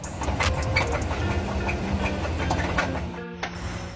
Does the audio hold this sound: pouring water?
no